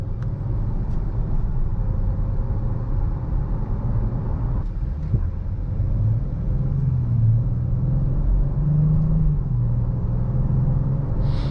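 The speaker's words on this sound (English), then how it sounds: "Nice linear power from that V6." A 2021 Dodge Charger GT's V6 engine drones steadily from inside the cabin, its low rumble rising smoothly in pitch as the car accelerates.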